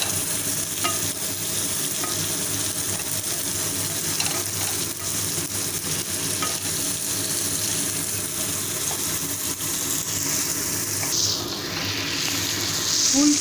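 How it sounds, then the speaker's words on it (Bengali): Potatoes and cauliflower fry with spices in a pan for a Bengali cauliflower and rohu fish curry, giving a steady close sizzle with scraping stirring sounds throughout. "আমি আলু আর ফুলকপি ভাজা ছেড়ে দিচ্ছি"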